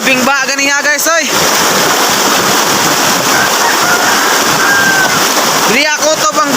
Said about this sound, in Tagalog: Okay na guys, ninahinay ng baha.